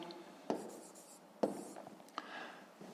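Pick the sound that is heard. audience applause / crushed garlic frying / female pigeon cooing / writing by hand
writing by hand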